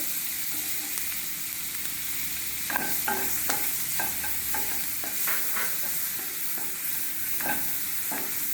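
Onions frying in butter in a pan, a steady soft sizzle with scattered stirring clicks and scrapes partway through, close and moderately loud, no voices.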